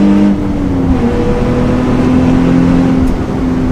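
A Nissan 350Z engine pulls hard toward its 7,500 RPM redline on back roads, a loud continuous rising drone heard from inside the car with no talk.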